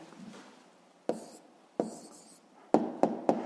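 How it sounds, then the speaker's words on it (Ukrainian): A pen writes on paper with sharp, close scratching strokes: a soft stroke first, then a couple of brisk separate marks and a quick run of three short taps and scratches, alone with no talk. "Так, записуємо відповідь, пишемо відповідь."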